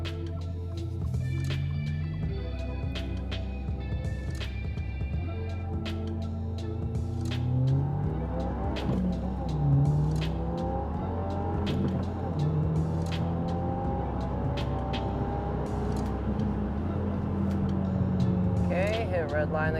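A 2022 Subaru WRX fitted with an ETS top-mount intercooler is heard from nearby, its engine note climbing in repeated rising sweeps as it accelerates hard toward redline, then easing back, with a voice now and then.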